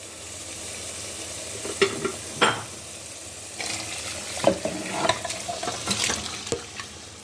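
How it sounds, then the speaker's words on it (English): Meat and stock go into a pot of egusi soup, giving a low sizzle with scattered splashes and clinks of a spoon or ladle against the pot, fairly quiet and close, with no voices. "So now I'm going to add the meat and the stock."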